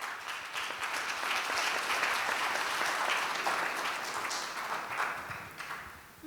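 Welcoming applause from a congress audience, a broad sustained patter of many hands that swells early, holds, then tapers toward the close.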